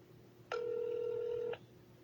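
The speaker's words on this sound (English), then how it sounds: "Please hold while we transfer you to an agent." A single steady electronic tone sounds for about a second over a quiet line hiss, then cuts off.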